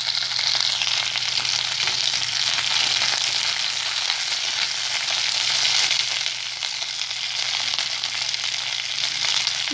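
Ginger, green chili and crushed garlic fry in a pan, giving a steady, dense hissing sizzle that stays constant and close throughout with no voices.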